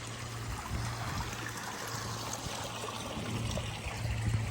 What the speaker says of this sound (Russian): Вода течет.